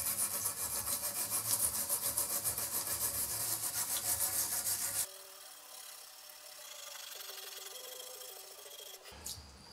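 A wire brush scrubs vinegar-loosened rust off metal in fast, rhythmic rasping strokes for about five seconds, then stops, leaving only quiet room hum and a faint tone.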